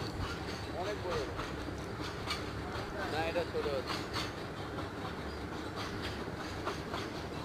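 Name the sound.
very long freight train passing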